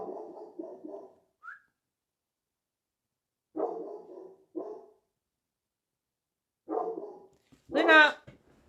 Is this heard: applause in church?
no